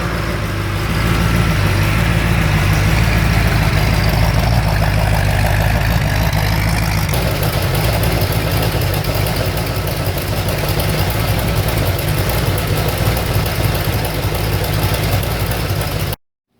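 A rebuilt Ford 351 V8 engine runs at a steady, loud idle with a deep, rumbling exhaust and a leaky puffing chatter from exhaust leaks, continuous and close for about sixteen seconds before cutting off.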